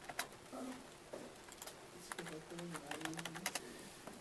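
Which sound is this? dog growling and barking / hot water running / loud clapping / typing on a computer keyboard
typing on a computer keyboard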